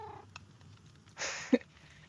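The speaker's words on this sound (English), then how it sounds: "We need a name for this cat." A cat meows once in a Minecraft survival game, a brief clear mew over a quiet low background hum.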